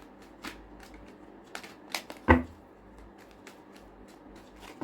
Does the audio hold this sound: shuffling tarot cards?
yes